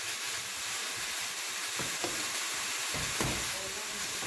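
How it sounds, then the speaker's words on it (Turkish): Spinach and mushrooms sauté in a pan with a steady, close sizzle and faint stirring clatter throughout; the food was briefly boiled and drained before going in. "Biraz da bu şekilde soteleyeceğiz."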